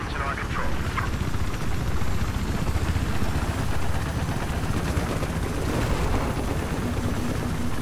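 Steady Little Bird helicopter rotor drone in Battlefield 4, thick and continuous, with scattered gunfire bursts and battle noise layered on top, voices speaking over it.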